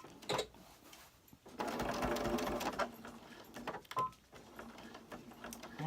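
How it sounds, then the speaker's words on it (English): A sewing machine runs in a steady whirring stitch burst while sewing a pillowcase, stops, then starts again in shorter runs, close and moderately loud with small clicks between. "And then take it over to the sewing machine."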